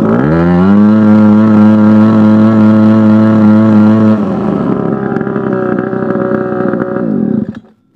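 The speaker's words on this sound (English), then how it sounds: "Wide open throttle." A Hangkai 3.5 HP outboard motor runs at wide open throttle, giving a loud, steady buzzing drone that shifts in tone partway through before cutting off abruptly near the end.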